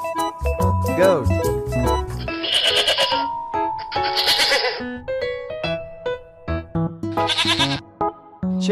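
A goat bleats repeatedly, loud and close, with wavering nasal cries broken by short gaps and overlapping calls.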